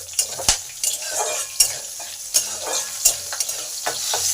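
Bay leaves, nigella seeds and broken green chillies fry in hot oil in a pan, with a steady close sizzle broken by sharp scrapes and knocks of a stirring spoon against the pan, no voices.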